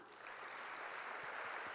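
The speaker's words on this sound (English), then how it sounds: "Another round of applause." Steady applause from a crowd at a university spring gala, a dense wash of clapping that swells in and holds at a moderate level throughout.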